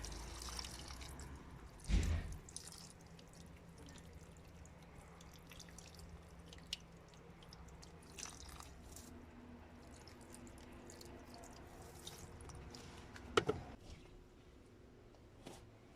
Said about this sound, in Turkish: Şöyle çiçeklerimizi su verelim bakalım.